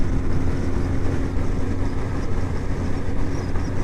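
A Suzuki GSX 1400 motorcycle's steady, low engine rumble with a throaty exhaust note, idling or cruising at a constant pace, close by and with no voices.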